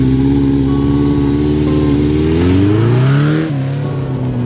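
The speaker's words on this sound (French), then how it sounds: "La moto s'en va." A Triumph Tiger 1050 motorcycle engine revs up close and loud, its pitch climbing as the bike pulls away, then settling lower as it moves off.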